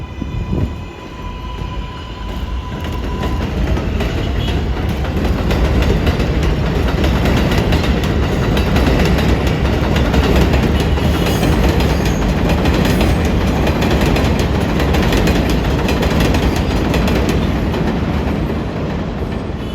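An NYC 7 line elevated subway train rolls past a station in Queens, a loud sustained rumble with rattling wheels and screeching metal that swells and holds steady for the whole stretch, with no talk.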